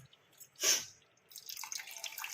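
A little water is poured into a curry pan, a short splash and trickle in the middle of the clip, then a softer sizzling, bubbling wash that runs on to the end.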